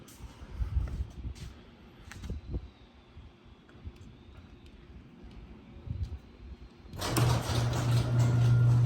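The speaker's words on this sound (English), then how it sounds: "This is for the LiftMaster keyless entry garage door opener." A LiftMaster keyless entry garage door opener sits through a quiet, low-level stretch before its motor kicks in near the end, a loud, steady hum with broad mechanical rattle that continues until the clip stops.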